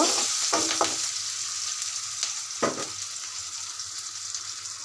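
Onions and green chilies sizzle steadily in hot oil as a shrimp and pumpkin dish is cooked, a continuous close frying hiss broken by a few sharper stirring scrapes.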